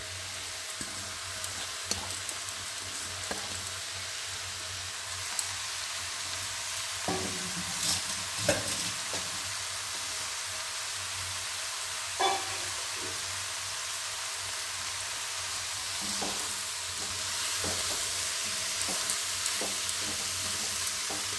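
Bengali vegetarian turnip curry fries in a pan, a soft continuous sizzle broken by occasional clinks and scrapes of a spoon stirring, close and fairly quiet throughout.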